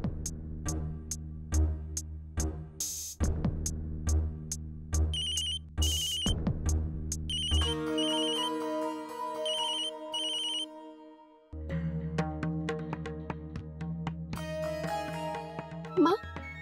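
A telephone rings in repeated electronic bursts, followed by a stretch of melodic ringtone tones, loud and close with no talking.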